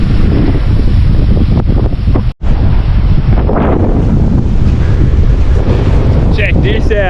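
Ocean waves wash around a small boat at sea in Coral Bay, heard through a steady, loud roar of wind buffeting the microphone, with a brief sharp dropout midway.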